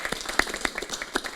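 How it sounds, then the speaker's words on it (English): An audience at a presidential reception claps for the president, a sparse patter of individual hand claps with a few sharp louder strikes standing out, brief and fairly close. "Let's clap for the President."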